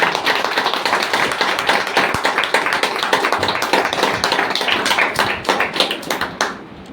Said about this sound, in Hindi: तो मैं चाहूँगा कि जी.आर. सर के पिताजी के लिए जोरदार ताली होनी चाहिए